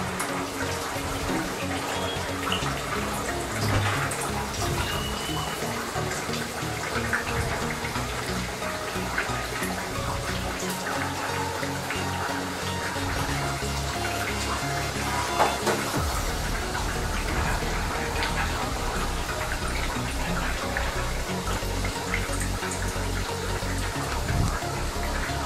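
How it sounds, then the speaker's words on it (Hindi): Onion kachori frying in oil over a low flame, a dense continuous sizzle and bubbling hiss, close and steady throughout, with no talking. "ऐसे इसको फ्राई करेंगे।"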